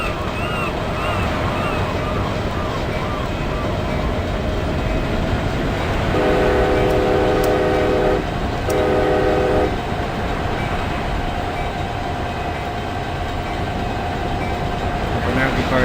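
A passenger train in the Open Rails simulator rumbles steadily on the run to San Diego, with a loud two-part horn blast sounding midway over the continuous rolling noise.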